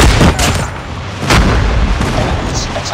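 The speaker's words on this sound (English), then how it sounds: "Friendly airstrike incoming" Airstrike explosions in a Call of Duty multiplayer match land as loud, dense booms and rumbling blasts, one on top of another, with a short burst of gunfire-like cracks mixed into the din.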